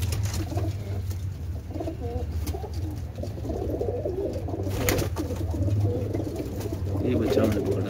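Pigeons coo softly and repeatedly nearby at a pigeon club, low throaty calls overlapping over a steady background hum.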